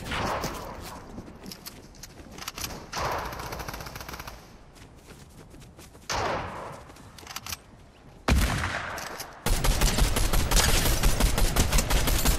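Gunfire in a Fortnite zero-build squads match, with bursts of rapid automatic shots and scattered single cracks that come and go, swelling into a loud sustained barrage near the end.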